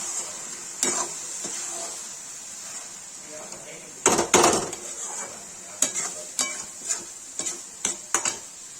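Carrot halwa cooks in ghee with a faint background sizzle while a spoon scrapes and knocks against the pan in a few sharp, irregular strokes, close by.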